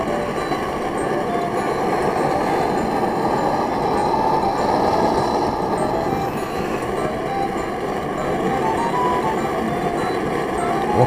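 A homemade jet-style alcohol stove built from a paint can, fuelled with alcohol, gives a steady, loud broadband roar that holds without a break throughout.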